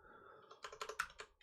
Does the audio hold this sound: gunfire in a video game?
no